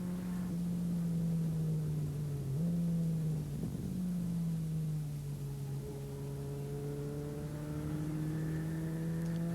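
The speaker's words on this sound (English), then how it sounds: "if you listen closely you can hear Mark's engine stumble" In-car engine of a 1988 production saloon racing car accelerating away from Beckett corner on a circuit, a loud steady drone with rising harmonics and a brief dip where the power stumbles midway, continuous and close with no talk.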